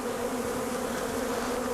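Honeybees buzz steadily at the entrance of a hive. The hum is dense, close and continuous, with a strong low drone and no voices over it.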